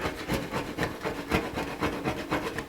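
A scraper rubs rapidly back and forth, clearing glue off the dashboard of a 1982 Jeep CJ7, close and rhythmic, with about a dozen short rasping strokes and no talk.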